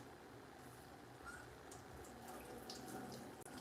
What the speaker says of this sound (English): I just always start out my saltfish by rinsing it out.